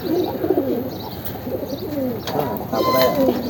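Racing pigeons bred from a 70-kilometre tournament bird coo nearby in repeated throaty, wavering phrases, overlapping one another across a few seconds, with faint chirps above.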